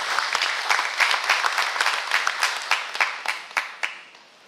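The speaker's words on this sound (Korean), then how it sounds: "큰 박수로 환영해 주시기 바랍니다." An audience applauds to welcome the deputy county head of Jeongseon at a public briefing, with rapid clapping and distinct individual claps that gradually thin out and fade over a few seconds.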